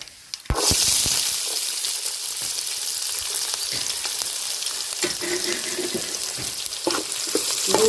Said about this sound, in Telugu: కొంచెం వేగిన తర్వాత ఉల్లిగడ్డలు అయితే వేసుకుందాము